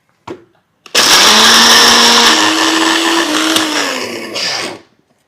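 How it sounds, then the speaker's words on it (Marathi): A mixer grinder whirs loudly and steadily for about four seconds, pulverising roasted peanuts and masala into a fine powder for a drumstick curry, then cuts out. A brief knock sounds just before it starts. "आता हे सगळं आपण मिक्सरला एकदम छान आणि बारीक असं फिरवून घेऊयात"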